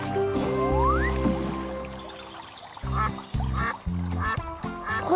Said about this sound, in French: Regardez tous ces canards.